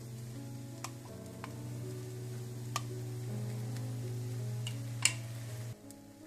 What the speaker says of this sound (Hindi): इसके बाद आप ये पराठा गरम पैन पे डाल दें। ऊपर आप थोड़ा सा मक्खन डाल दें।